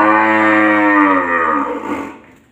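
A cow for sale at a Vietnamese cattle market gives one long, loud, close moo that holds steady for about two seconds before tapering off.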